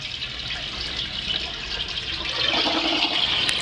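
Water flows from a tap in a restroom of a large Ayala mall in the Philippines, a soft steady splashing rush that grows slightly louder toward the end.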